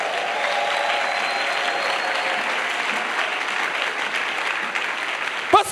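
A church congregation bursts into sustained, fairly loud applause, a dense even wash of clapping with faint crowd voices, fading slightly before a brief final thump.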